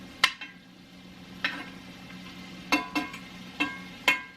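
Ground meat for lasagna browns in a pan with a low, soft sizzle, broken by about seven sharp clicks and scrapes of a utensil stirring against the pan at uneven intervals.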